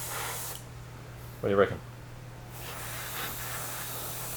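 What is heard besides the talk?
airbrush spraying paint on RC10GX Stealth replica body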